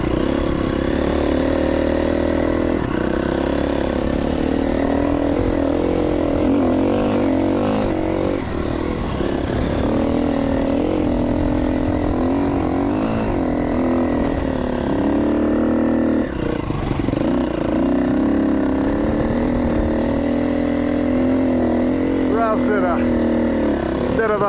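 KTM 350XC-F enduro motorcycle engine on a trail ride, a continuous close droning note that rises and falls with throttle changes, joined by voices talking over it.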